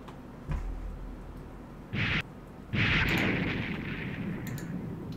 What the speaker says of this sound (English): I'm not sure what those missiles were firing at. I think those were just double salvos.